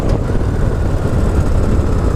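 Victory Ness Magnum motorcycle cruising with a continuous low engine rumble and heavy wind roar, steady and close throughout.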